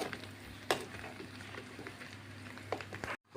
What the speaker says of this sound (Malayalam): ഇതിലേക്ക് നമ്മൾ 2 പച്ചമുളക് കൂടെ നെടുവേക്ക് കീറിയത് കൂടെ നന്നായിട്ട് ഫ്രൈ ആവട്ടെ